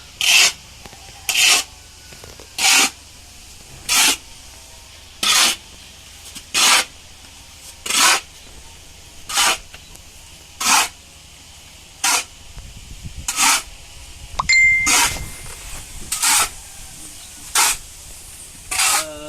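Planting medium for dragon fruit, soil mixed with organic fertilizer, is stirred and scraped by hand in a regular series of about fourteen loud rasping strokes, evenly spaced at first, then rougher and more irregular toward the end.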